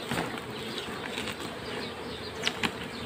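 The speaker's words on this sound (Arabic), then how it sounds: "انا حطيت شوية نحل اهو" Honey bees buzz around an opened beehive during frame work, a steady, close insect drone with a couple of sharp knocks near the end.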